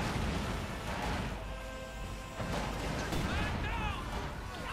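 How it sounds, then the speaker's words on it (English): Company of Heroes 2 artillery fires in a real-time strategy battle, with dense booming bursts and crashes rolling through the mix beneath a commentator's steady talk. "Attila firing in."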